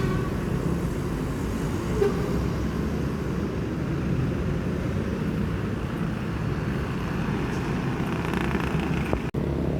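A Sumbar bus pulls into the Palembang bus terminal with a steady droning engine rumble and broad traffic noise, fairly loud and unbroken, with no talk.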